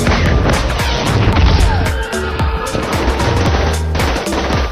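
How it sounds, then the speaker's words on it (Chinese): Gunfire from bodyguards in a Moon Knight series scene: loud, dense bursts of shots run almost without pause, mixed with crashes and impacts throughout. "保镖们向他们发起猛烈的射击"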